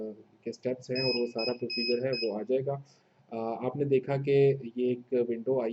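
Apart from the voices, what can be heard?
Dahua NVR beeping continuously at first boot, not yet configured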